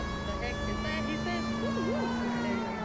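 Police car siren in the LA Noire video game, a loud wailing tone that rises and falls steadily over engine and street noise, with a voice talking partway through.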